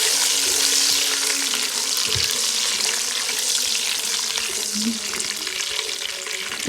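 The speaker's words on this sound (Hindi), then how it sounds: "नट्स वगैरह शामिल करके इसको हम थोड़ा सा फ्राई करेंगे।" Dry fruits and nuts frying in a pan for matanjen, a steady close sizzle with occasional stirring scrapes and soft clinks, continuous and fairly loud with no talking.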